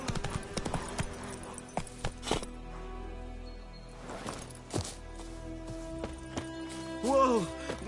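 Roach the horse's hooves clip-clop in uneven bursts in The Witcher video game on PS5 Pro, mixed with thuds and in-game voices, fairly quiet overall.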